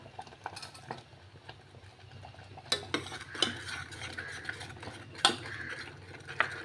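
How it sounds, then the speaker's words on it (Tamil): A utensil stirs sweet mappillai samba rice porridge with sugar, making quiet, irregular scrapes and soft clinks against the pot. "நல்லா கிண்டி விட்டுக்கோங்க"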